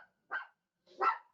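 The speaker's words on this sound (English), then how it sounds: "that was my dog meeting somebody at the front door for me" A pet dog gives two short, sharp barks at someone at the front door, the second louder and fuller, separated by a brief silence in an otherwise quiet room.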